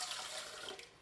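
About one and a half cups of lukewarm water poured for a sourdough dough in a stand mixer: a brief, bright, splashy rush of liquid, close and steady for about a second.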